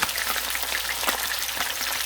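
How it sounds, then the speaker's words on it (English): Loud, steady crackling and spitting of snapper frying in hot oil, a dense continuous sizzle with no voices. "I turned it over, and it's frying on the other side"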